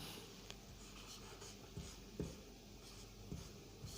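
Chalk or marker scratches and taps on a board during a Hindi grammar lesson, a run of quiet strokes with a few sharper knocks, close and alone.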